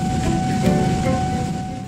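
Freight train with a long string of wagons loaded with big, colourful containers rolling past, a steady close rumble with faint clatter and a thin tonal whine running throughout, no voices.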